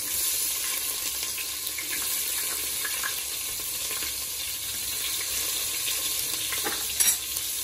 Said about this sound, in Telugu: ఒక్కొక్క వెజిటేబుల్ వేసి ఆయిల్, మన ఆనియన్స్ కొంచెం గోల్డెన్ బ్రౌన్ వచ్చే వరకు ఫ్రై చేసుకోవాలి.